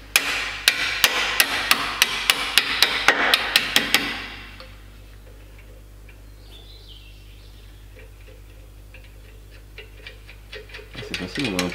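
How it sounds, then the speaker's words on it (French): A hammer taps repeatedly on the head of a screw in a sharp, rhythmic series of close, ringing knocks for about four seconds, then stops, leaving a low steady hum before faint taps return at the end. "Tu prends un marteau et tu viens taper sur la tête de vis."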